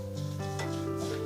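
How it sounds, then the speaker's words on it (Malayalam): Stirring a sticky Ashali laddu mixture in a pan with roasted coconut and ground nuts, a brief close scraping and soft sizzle over a steady hum. "എന്നിട്ട് നല്ലോണം ഒന്ന് മിക്സ് ചെയ്യാം"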